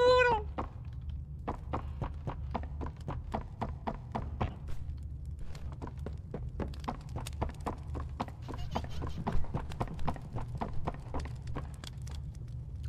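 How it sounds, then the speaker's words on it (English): Cat sounds in the video game Poppy Playtime Chapter 3: a short meow opens, then a long run of quick, evenly spaced footfalls or thuds patters on, at a moderate distance. "There was like cat-related sounds."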